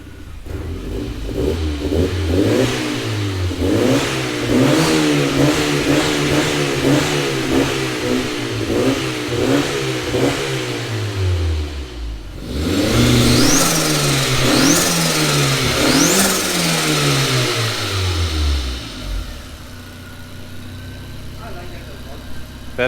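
A car fitted with a swapped-in 1.8-litre turbo 20-valve engine revs repeatedly, loud and close, climbing and falling in a steady run of rising blips before settling back toward idle.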